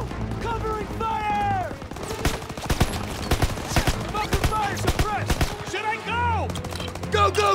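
Rapid machine gun fire and scattered gunshots in the World War II shooter Call of Duty WWII, loud dense bursts with shouting soldier voices mixed in throughout.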